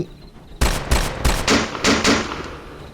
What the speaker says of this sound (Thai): ทำเอาเสียงปืนจากพวกเขา กลับมาดังสนั่นวันไหวอีกครั้ง